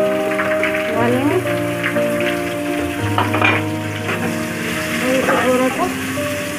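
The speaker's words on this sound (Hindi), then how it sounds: "थोड़ा सा भून लेंगे।" Steady crackling sizzle of chilli, turmeric and salt frying with garlic, onion and ginger in a pan, with a spoon clinking and stirring against the metal, close and continuous.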